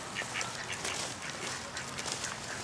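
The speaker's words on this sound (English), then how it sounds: "Look at them, you got all of these ducks." Ducks quack repeatedly near a condo, a steady flock chatter of overlapping calls with no one talking over them.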